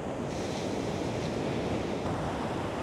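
Small ocean waves at the Papara surf spot produce a steady, broad rush of surf mixed with wind noise, continuous and fairly close with no distinct breaks.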